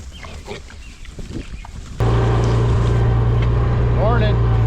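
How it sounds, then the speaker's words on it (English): Pigs on a farm during a morning check, with brief grunts and squeals mixed into a loud, steady engine hum that starts partway through, while a person talks nearby. "Checking pigs this morning."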